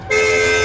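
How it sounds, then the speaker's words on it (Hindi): A loud, sustained electronic horn blast from an ODI Motors electric scooter's high-power horn, with a steady pitched tone, starts sharply and holds for under a second, close by. "जो हाई पावर हॉर्न है।"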